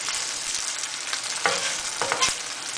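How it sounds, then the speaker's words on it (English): Veggie burger patties sizzle steadily in a lightly oiled frying pan, a soft constant crackle with a few sharper pops and scrapes. "put it into a frying pan that's lightly oiled, and then you're just going to fry it in the frying pan until it's crunchy on both sides"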